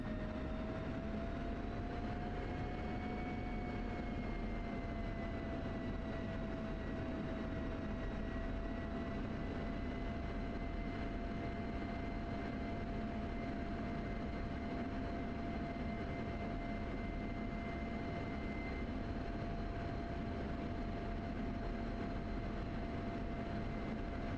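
Aircraft engine drone as a plane takes runway 33 for departure to the north, a steady, fairly distant hum with a faint whining tone that holds throughout.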